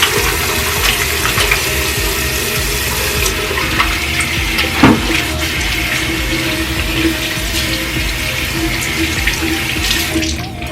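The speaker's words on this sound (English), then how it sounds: "Wash my hands because I got a little bleach on there" Water runs steadily from a tap while hands are washed at a sink, a loud, even splashing rush that continues throughout with small shifts as hands move under the stream.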